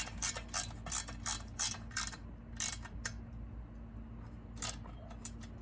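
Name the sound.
Allen screw being put back in on a Husqvarna 395XP chainsaw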